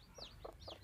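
A newly hatched duckling gives three quick, thin peeps in a row, soft and close by.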